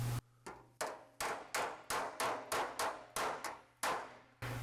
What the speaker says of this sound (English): you can strike it a little longer stroke on your hammer